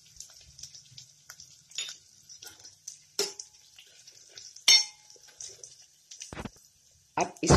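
Nigella seeds and chillies dropped into hot oil for guava curry, giving soft crackling and light sizzle broken by several sharp spatula and pan clinks.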